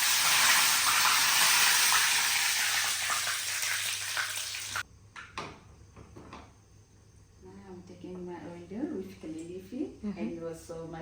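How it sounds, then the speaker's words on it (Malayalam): Mustard seeds crackle and pop in hot oil while Kerala sambar is made at home, a loud dense sizzle that cuts off abruptly, followed by quieter kitchen sounds with someone talking. "കടുക് പൊട്ടി തുടങ്ങിട്ടോ."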